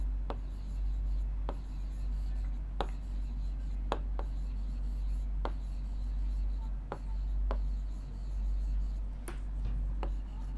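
A pen writing out details of a bicycle-sales maths problem on paper: soft continuous scratching with regular sharp taps roughly every second, close, over a low steady hum, with no talk.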